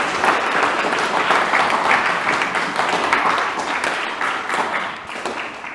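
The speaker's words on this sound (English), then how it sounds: "Clap it up." A presentation audience claps in thick, sustained applause that holds steady for several seconds before easing slightly at the end.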